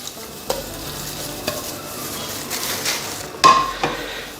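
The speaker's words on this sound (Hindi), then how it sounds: "अब इसमें हम कलेजी डालेंगे जी" Liver (kaleji) goes into a pan and fries with a steady sizzle, punctuated by several clanks and scrapes of a utensil against the metal, one louder knock near the end.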